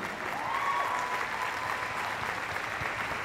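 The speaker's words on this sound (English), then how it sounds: "let's give a round of applause to your Teachers of the Month" An audience applauds steadily at a school's end-of-year awards ceremony honoring Teachers of the Month, a dense, even wash of clapping from many hands that holds at a constant level throughout.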